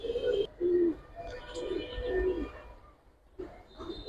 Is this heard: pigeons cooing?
yes